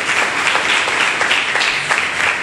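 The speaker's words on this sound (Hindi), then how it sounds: "जोरदार तालियां खुदा के जलाल के लिए" A church congregation breaks into loud, sustained applause during a sermon, dense overlapping clapping from many hands filling the room with no voices over it.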